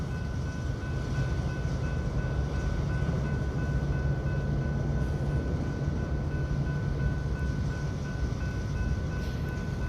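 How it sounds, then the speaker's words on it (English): A train rolls steadily past on a curved stretch of track at night in Hapeville near Atlanta, Georgia, a loud continuous rumble with a high, sustained wheel squeal throughout and no horn. "Trains are a bit of a treat to watch."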